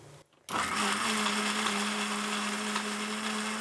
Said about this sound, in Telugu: ఇప్పుడు మిక్సీ పెట్టేద్దాం